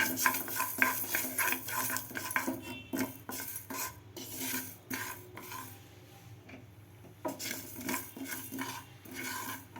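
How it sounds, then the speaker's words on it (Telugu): Fenugreek and mustard seeds dry-roasting in a pan for tomato pickle, with continuous rasping stirs and metal scrapes in an uneven rhythm, close by, with a quieter stretch midway and no talking. "మెంతులు ఆవాలు ఈ రెండు పదార్థాలని దోరుగా ఎంచుకోవాలి"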